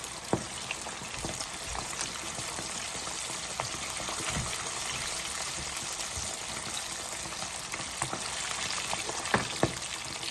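Chicken pieces fry in hot oil with a steady bright sizzle and scattered pops and crackles, continuous and fairly close, no voices.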